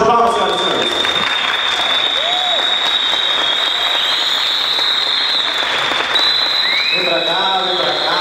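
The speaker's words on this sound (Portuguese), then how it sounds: "Uma salva de palmas, senhoras e senhores." Audience applause fills the space at a public circus-style event, steady clapping under a drawn-out whistling tone, with brief voices and shouts near the end.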